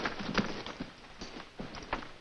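Cavalry soldiers' horses clip-clop and shuffle at a ranch in an Old West scene, a steady run of soft hoof thuds at moderate distance with faint background noise.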